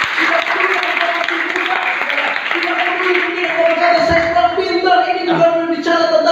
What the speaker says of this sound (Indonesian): Boleh tepuk tangan untuk Tuhan kita.